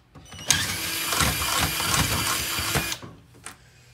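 Power drill boring into material, a steady whining buzz held for about two and a half seconds, close and fairly loud, then stopping, followed by a brief second burst.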